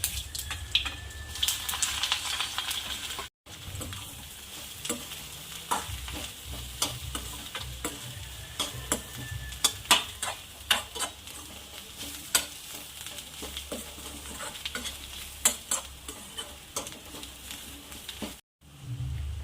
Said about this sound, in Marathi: तेल तापलं आहे तर जिरा ॲड करतो आहे आणि आता छान फ्राय करू